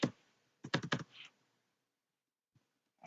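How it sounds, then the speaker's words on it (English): A few quick keystrokes on a computer keyboard, an initial tap followed by a tight cluster of clicks and then a couple of isolated faint taps, close and quiet with no voices. "I will just type as checkbox here"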